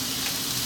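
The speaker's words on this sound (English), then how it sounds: "Now I'm going to drop in my bacon" Cooked bacon drops into a hot frying pan already sizzling with garlic, giving a brief burst of steady, close, loud frying hiss.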